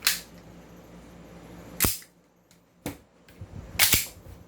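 A John Wick Babayaga airsoft pistol fires several sharp, loud single cracks spaced irregularly, with quiet room background between shots.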